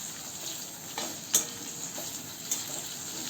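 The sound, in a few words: frying onion with garam masala in a pan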